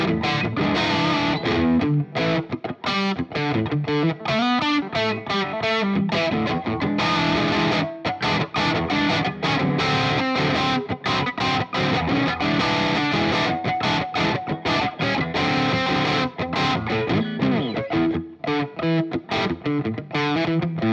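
Epiphone Jared James Nichols Gold Glory Les Paul electric guitar played with heavy distortion, with thick snarling sustained chords and riffs continuing loud and close with no talking.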